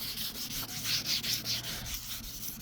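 Wet sanding of car paint by hand, a rhythmic, close-up rasping rub in short back-and-forth strokes with a gritty hiss, steady and moderately loud without any speech.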